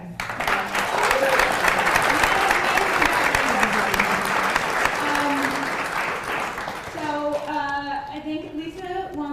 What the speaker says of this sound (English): Another round of applause for these guys.